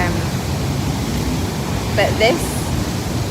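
Roar of Huka Falls waterfall near Lake Taupo, New Zealand, a loud broadband rush of water filling the scene while a person speaks briefly over it.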